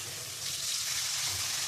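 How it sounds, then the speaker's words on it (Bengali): Water poured into a sizzling pan of silver carp fish curry, a continuous hissing wash of sizzle and pouring that swells slightly and holds steady. "এখন আমি পরিমাণ মতন জল দিয়ে দেবো"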